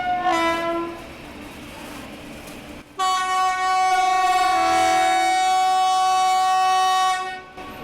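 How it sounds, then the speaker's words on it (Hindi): A long, loud horn from a Mahabodhi Superfast Express train sounds twice at an Indian railway station to warn people crossing the track, a short blast followed by a sustained one of several seconds. "जो लोग ट्रैक बीच में पार कर रहे हैं उनके लिए हॉकिंग जो हो रही है"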